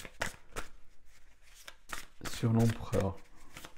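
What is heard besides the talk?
drawing another tarot card from the deck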